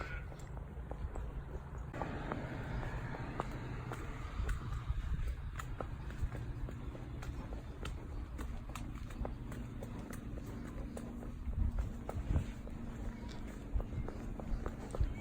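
Irregular hoof thuds and clip-clops of a horse walking on a hard surface, with steady wind and outdoor rumble in the background.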